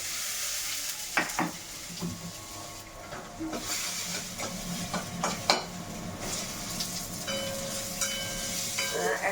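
Bay leaf, whole cumin and grated garlic sizzle in hot oil, a steady close hiss broken by a few sharp clinks and stirring scrapes, with no talk.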